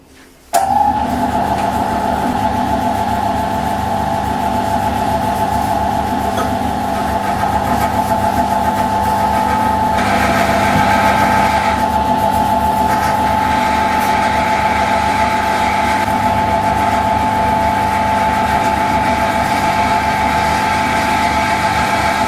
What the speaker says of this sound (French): Là je fais un trou de centrage.